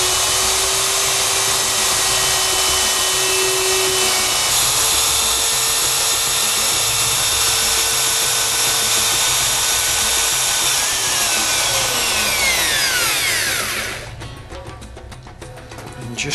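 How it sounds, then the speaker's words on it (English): A power tool loudly cutting slots into a wooden motor mounting plate for a homemade pallet-wood lathe, a steady, dense whine running continuously for most of the stretch before winding down near the end. "So now I'm ready to cut the slots on the mounting table."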